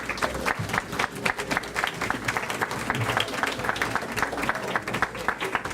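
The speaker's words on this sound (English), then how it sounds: "let's give them a round of applause" An audience at a volunteer appreciation celebration applauds city volunteers, a sustained, even wash of many hands clapping throughout, with a few voices mixed in.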